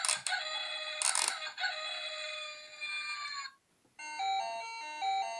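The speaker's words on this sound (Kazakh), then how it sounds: "Әтеш ән айтып жатыр." A toy farm rooster plays an electronic crowing call, bright tonal and close, followed after a short gap by a second chime-like jingle from the toy.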